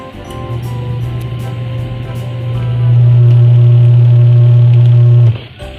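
A Sharp ES-W500 washing machine motor runs as a steady close hum that swells noticeably louder partway through, then cuts off abruptly near the end.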